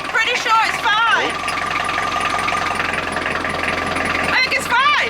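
A narrowboat diesel engine runs with a brief stutter, a steady mechanical chugging and rattle heard close up, with people talking over it.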